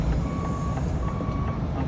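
Reversing beeps from an HGV truck being parked up at a depot, a steady repeating electronic tone over a continuous low engine rumble, close and clear.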